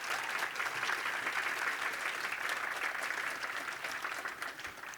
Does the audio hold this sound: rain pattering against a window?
no